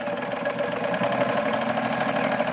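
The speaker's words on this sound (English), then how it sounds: "Let me sew them britches up for you, Adam." An antique Morse 4400 sewing machine stitches britches, a steady close mechanical whir and rattle running without pause and without any talk.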